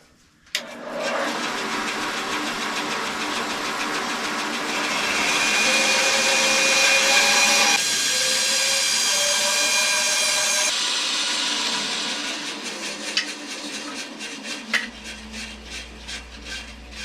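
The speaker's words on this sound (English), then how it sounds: "cut this tapered outline on the bandsaw" A bandsaw cuts a tapered outline for a wooden toy dump truck frame, giving a loud, steady whine and rushing hum for about twelve seconds before it winds down into a few light knocks and clatters close by, with no speech.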